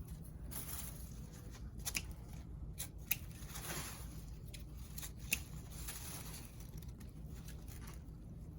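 Scissors snip ribbon tails on a grapevine wreath with summer daisies and grass, a few quiet cuts and sharp clicks scattered over a steady low hum, with soft rustling and no talk.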